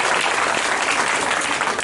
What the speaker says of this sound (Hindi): लोगों के तरफ देखिए, इनके लिए पर जोरदार ताली बजाइए।